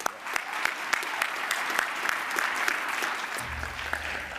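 A graduation ceremony audience applauds in a hall, dense continuous clapping at moderate loudness that fades near the end as a low hum enters.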